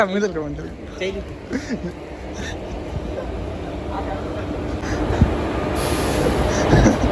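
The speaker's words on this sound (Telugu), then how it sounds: "Long waiting, train is in front of us." A train rumbles and clatters nearby, with metallic screeching near the end, while people talk over the noise.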